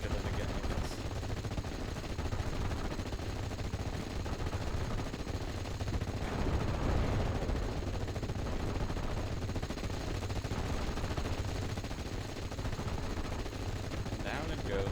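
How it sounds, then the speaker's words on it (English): An MG-42 machine gun fires in the World War II strategy game Steel Division: Normandy 44 near a farm, as faint rattling bursts buried in a steady, low battlefield rumble. "MG-42 identified in the farm sector."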